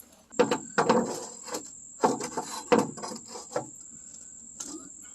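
3-inch screws are driven into wooden raised garden bed boards, a series of short grinding, ratcheting bursts over a steady high tool whine, close and fairly loud, stopping near the end.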